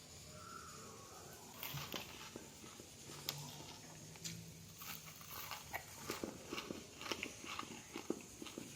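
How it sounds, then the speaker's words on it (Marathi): Crisp, hollow fried paush vada is bitten and chewed close up, giving a series of sharp crunches and crackles over a quiet background. "आता एक वडा मी तुम्हाला खाऊन दाखवतो पहा बरं खाताना आवाज कसा येतोय ते"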